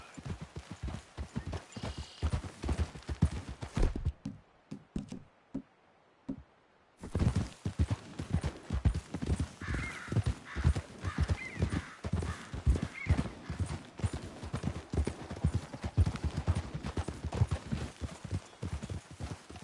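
Steady clip-clop of horse hooves in Red Dead Redemption 2 walking at an even pace, close and continuous, with a brief pause and occasional faint whinny and soft talking.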